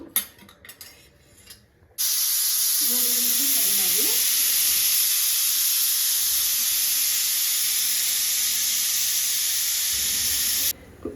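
A pressure cooker on a stove, holding chickpeas boiled in salted water, lets out a loud, steady, high hissing whistle that goes on for about nine seconds before stopping abruptly.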